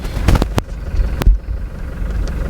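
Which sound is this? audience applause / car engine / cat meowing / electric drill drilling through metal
car engine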